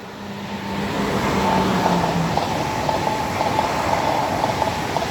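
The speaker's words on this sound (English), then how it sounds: "our first train today is the Great Western Mainline IET." A Great Western Main Line IET train passing Sonning Road Overbridge, rising into a sustained rumble and rhythmic clatter of wheels over rail joints, loud and close, with a brief tonal hum early on.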